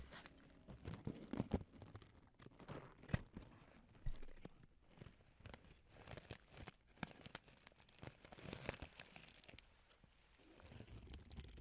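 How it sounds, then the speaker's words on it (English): Red rose petals being cut into pieces, quiet close-up snips, crinkles and soft tearing rustles in an irregular, patter-like sequence, delicate and intimate with no talking. "We do not need the full petals, so we'll just cut off pieces."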